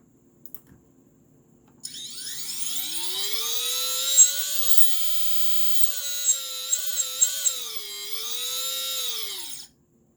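Close and alone, a Mr Steele Silk V.3 tattoo machine motor spins up into a high, steady whine that holds for several seconds with slight pitch wobbles, then cuts off abruptly.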